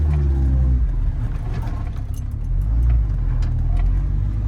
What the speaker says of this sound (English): we gotta drive the car to the new place